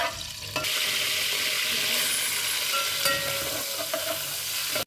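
Cumin seeds sizzle loudly in hot oil in a home kitchen pan, a steady bright crackling hiss that starts with a sharp burst and holds for several seconds, with faint stirring clinks and no talk.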